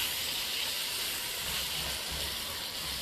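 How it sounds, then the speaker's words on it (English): Masala sizzles and hisses steadily in a good amount of hot oil in a pan, a continuous close frying sound for a Singapore chilli crab curry, with no voices. "I'm going to add a good amount of oil, and then I'm going to start sauteing the masala"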